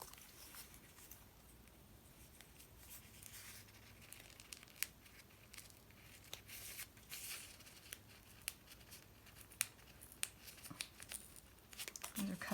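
Paper deco sticker being peeled from its sheet while decorating a Hobonichi planner page, with faint crinkling and small tearing crackles scattered over several seconds in a quiet room.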